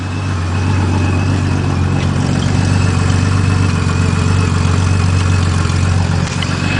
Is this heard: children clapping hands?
no